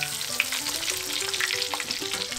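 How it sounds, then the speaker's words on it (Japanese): A pork cutlet fries in oil in a shaken frying pan, a dense steady hiss and crackle with faint rattling from the pan, close and continuous with no voices. "常にフライパンを揺すって均一に仕上げましょう"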